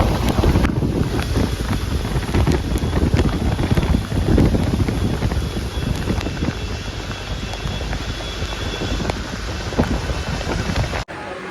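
Outdoors in rain with gusting wind on the way to a railway station, a dense roar of wind buffeting the microphone over the falling rain, loud and continuous with no voices.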